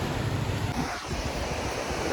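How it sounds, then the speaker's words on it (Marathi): Sea waves wash onto Morjim beach in Goa, a continuous roar of surf with wind buffeting the microphone. "समुद्राच्या लाटांचा आनंद पण घेतोय"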